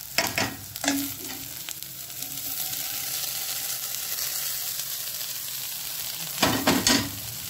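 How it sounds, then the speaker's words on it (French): Aubergines are stirred into onions and pepper frying in a pan for zaalouk, giving a steady close sizzle with scraping stirring bursts at the start and again near the end, and no voices. "Je vais mélanger les aubergines, les ajouter aux oignons et au poivron."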